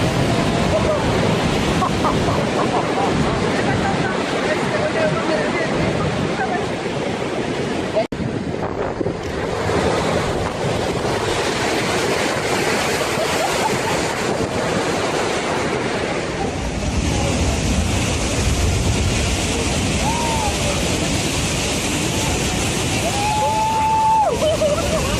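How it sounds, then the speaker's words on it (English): Large winter ocean waves roll and crash in San Sebastian Bay, a continuous loud roar of surf with heavy wind buffeting over the whole stretch and no voices. "During the winter months, San Sebastian Bay sees waves rise as high as 30 meters, a dramatic sight that attracts visitors from far and wide."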